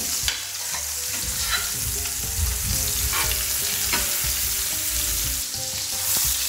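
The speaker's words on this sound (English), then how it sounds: "try to cook this loaf on all sides." A meatball loaf for a Parmesan recipe fries in a pan and is turned with a spatula, giving a steady, close sizzle with soft scraping and shifting as it moves, with no talking.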